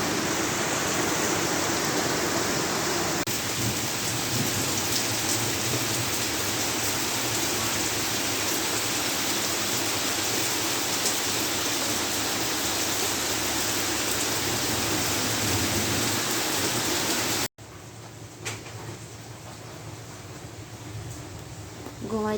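Heavy rain pours outside as a dense, continuous hiss that stays steady for most of the clip, then drops abruptly to a quieter wash near the end.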